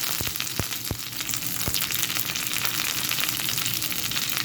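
Mustard seeds sizzle in hot coconut oil, a dense, continuous close frying hiss with a few quick pops early on.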